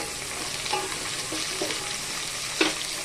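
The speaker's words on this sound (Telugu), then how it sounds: "ఇప్పుడు బంగాళదుంప, క్యారెట్, తర్వాత ములక్కాయ, ఇది కొంచెం మగ్గాలి." Potato, carrot and drumstick pieces fry in a pan while sambar is being made, giving a steady close sizzle with a few soft stirring clinks.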